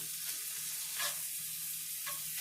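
Minced beef fries in a pan, a constant bright sizzle close by, broken every second or so by the scrape and stir of a utensil pushing the meat around, with no talking.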